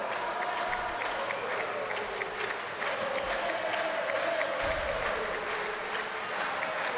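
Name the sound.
handball fans of Junior Fasano cheering and applauding victory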